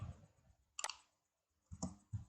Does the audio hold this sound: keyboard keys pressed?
yes